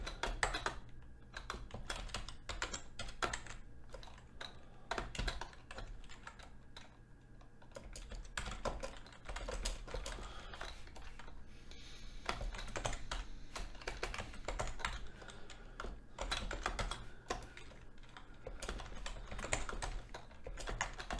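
Lines of code are typed on a computer keyboard in a long run of rapid, close key clicks with brief pauses and uneven bursts, and no one speaks.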